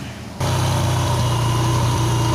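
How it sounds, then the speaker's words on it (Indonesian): A motorcycle engine catches after a short quiet moment and settles straight into a steady, loud idle, a close, even rumble that continues to the end with no voices. "ini kondisi motor sepeda motor dihidupkan"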